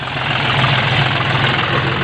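A tractor engine idles at the 2020 Mela Bhai Bidhi Chand Chhina fair in Punjab, a loud, close, continuous low chug without pauses.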